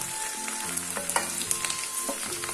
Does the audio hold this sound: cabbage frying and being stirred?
yes